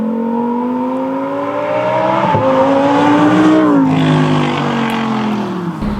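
A Lamborghini Huracan EVO RWD's 5.2 litre V10 howls loud and close, its rising tone climbing through the revs, dropping briefly at a gear change, then climbing again before easing off.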